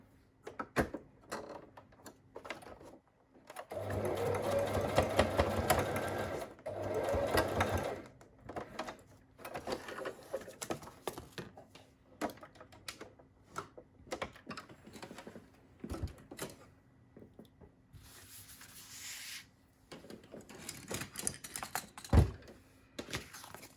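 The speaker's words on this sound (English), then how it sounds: "I'm just going to bring the machine over, and I'm going to have a play and just see if it's not too thick to sew on." A quilting sewing machine stitches through a thick grungy fabric pocket in two sustained bursts of steady, rapid needle chatter, followed by quieter clicks, fabric handling and scattered knocks.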